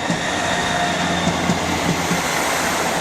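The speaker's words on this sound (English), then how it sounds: "now departing now is a 158" A Class 158 diesel multiple unit departs York station with a steady rumble and rail noise that holds at an even level throughout, with faint wheel and clatter accents and no voices.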